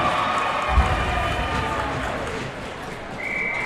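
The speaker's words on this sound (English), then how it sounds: "this crowd is hyped" A hockey crowd at a Kirkwood versus Parkway South playoff game cheers after a goal, a steady, dense roar of voices that holds at high level throughout, with a faint whistle-like tone rising near the end.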